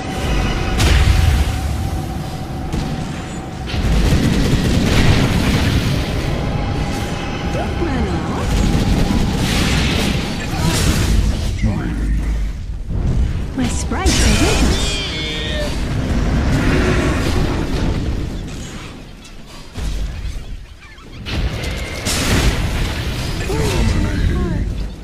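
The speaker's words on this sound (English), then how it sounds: "Dire's bottom tower is under attack." Dota 2 tower under attack, a busy match with repeated booming impacts, crashes and spell bursts in clusters throughout, mixed with voices talking over the fighting.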